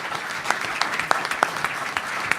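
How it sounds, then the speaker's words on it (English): Conference audience applause for a moderator, a steady wash of many hands clapping with a few sharper nearby claps standing out, moderately loud throughout. "You ought to give Tabiti Boone a round of applause for moderating."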